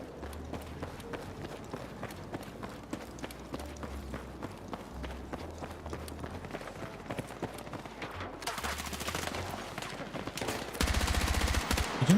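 Rapid bursts of gunfire from guns in a shooter video game, Battlefield 2042-style, crackle steadily amid game effects, swelling into a denser, louder barrage near the end.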